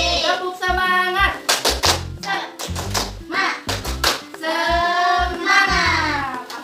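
A primary school class claps out a rhythmic 'tepuk semangat' cheer in an Indonesian lesson, with crisp patterned hand claps in quick groups, interleaved with children's chanting voices, close and fairly loud.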